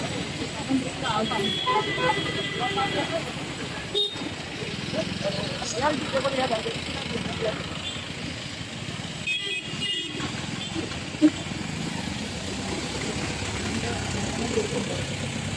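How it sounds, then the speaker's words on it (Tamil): Busy traffic on a crowded mountain road near Munnar, Kerala, with a steady engine rumble, passing vehicles and scattered car horn toots, all running under almost constant talk. "மலை மேல இவ்வளவு வண்டி போகுது"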